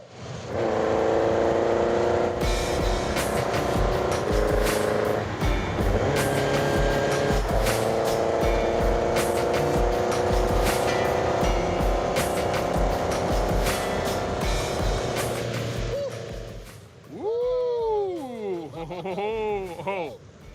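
A fast custom-built car styled after a Formula 1 Grand Prix racer roars loudly and steadily at close range, its engine pitch rising and holding. Near the end the engine eases and a voice is heard.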